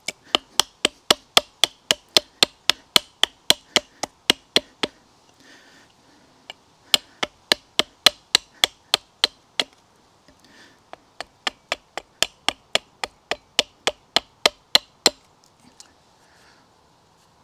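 A BeaverCraft AX6 compact long-bearded bushcraft hatchet chopping into wood while carving a spatula: three long bursts of sharp, evenly paced strikes, close and crisp, with short pauses between the runs.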